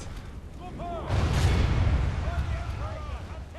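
Enemy artillery fires in a Medieval 2 Total War battle, a single heavy boom rolling out into a long rumble while faint battle cries carry on around it.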